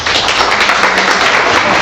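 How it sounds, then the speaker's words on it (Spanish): A panel audience at a hydraulic infrastructure conference gives a strong round of applause, a steady wash of clapping filling the short moment. "Un fuerte aplauso"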